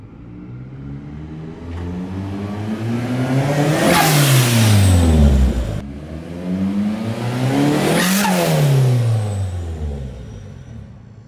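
A Nissan S13 with a freshly repaired drive shaft coupler revs up twice in rising, sweeping engine pulls, loud and close, each climbing to a peak before dropping back.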